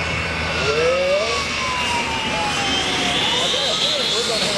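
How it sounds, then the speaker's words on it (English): A jet truck engine roars at an airshow at Joint Base McGuire-Dix-Lakehurst, a loud sustained whine with shifting pitch sweeps, while a loud announcer talks over it. "Now you may be wondering why we got a jet truck pulling out while Paul is still flying."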